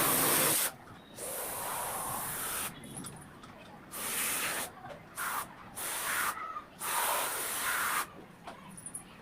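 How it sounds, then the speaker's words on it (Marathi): Insecticide for cockroaches hisses from a spray can into kitchen corners in several bursts of varying length, close and fairly loud, with short pauses between sprays. "त्यामुळे मग स्प्रे मारून दिला"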